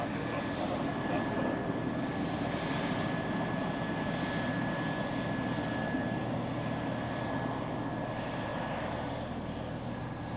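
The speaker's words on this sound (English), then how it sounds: "Here it is. Pilatus PC-12." A Pilatus PC-12 turboprop at Zurich Airport produces a continuous loud engine drone with a steady whine, heard from a moderate distance throughout.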